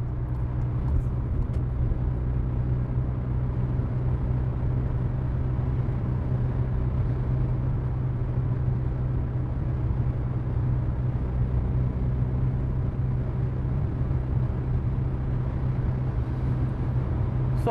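A car cruises on the German Autobahn at around 120 km/h, heard from inside as a constant low road and engine drone with steady tire hum, even and unbroken throughout.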